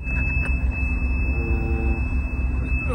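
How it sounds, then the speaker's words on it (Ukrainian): A steady, high-pitched warning tone from the handbrake alarm sounds continuously inside the cab of a 1992 John Deere 1177 combine, over the low rumble of the running machine. "Ручник пищить."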